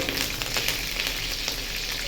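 Curry leaves and tempering spices with dried red chillies crackle and sizzle in hot oil, a steady close, dense frying hiss with no talk.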